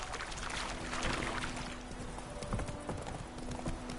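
Roach, a horse in The Witcher 3, runs at a steady pace, its hooves clip-clopping rhythmically and close under a soft wash of background ambience.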